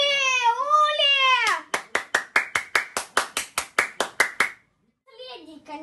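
Sharp, evenly spaced hand claps, about fourteen, ring out loud and close after a child-like voice speaks, with more speech following a short pause.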